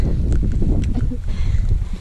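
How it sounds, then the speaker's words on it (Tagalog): Loud, dense rush of strong mountain wind buffeting the microphone with the hiss of heavy rain on Mt. Pulag, a constant roaring wash. "Sobrang lakas ng ulan."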